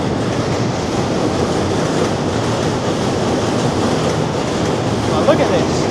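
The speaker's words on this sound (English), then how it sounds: "Except for the train." A train rumbles past close by, a steady broadband roar of wheels on rails lasting the whole stretch, with faint clattering on top.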